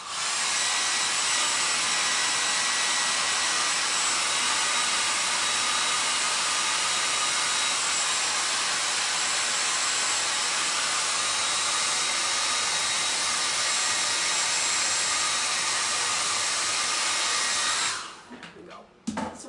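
A heat tool dries chalk paste on a Chalk Couture stencil design, blowing a loud, steady airy whoosh close up for about eighteen seconds before switching off.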